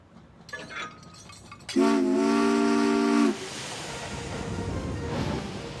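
Caitlyn, a Thomas & Friends steam engine, pulls away with a loud steady steam whistle blast of about a second and a half, followed by chuffing and rolling rail noise.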